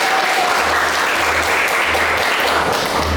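Students applauding in a classroom, a loud continuous burst of clapping filling the room with no talk over it.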